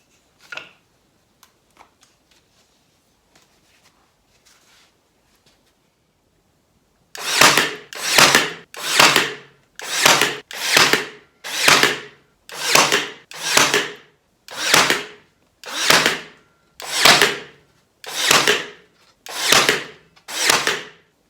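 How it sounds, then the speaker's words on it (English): A pin nailer fires about a dozen times into a glued wooden box, each sharp burst loud and evenly spaced, after several seconds of near silence. "we'll assemble this box, glue and pin nail it together"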